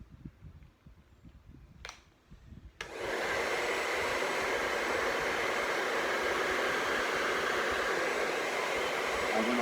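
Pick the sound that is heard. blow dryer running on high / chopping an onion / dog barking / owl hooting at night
blow dryer running on high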